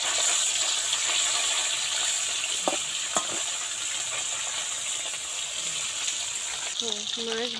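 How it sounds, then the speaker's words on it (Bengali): Fish frying in hot oil in a kadai for a home lunch, a steady hiss of sizzling with a few sharp utensil clicks and a voice briefly heard near the end. "মাছ ভাজা অনেকটাই হয়ে গেছে"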